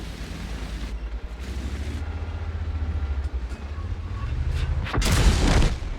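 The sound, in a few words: tank cannon firing HE shells in a video game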